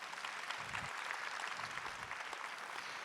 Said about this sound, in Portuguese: Vamos aplaudir a TV Canção Nova?